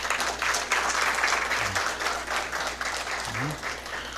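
Audience applause for woodworking apprenticeship trainees at a programme launch, a steady, dense clapping that fills the whole short stretch at even loudness.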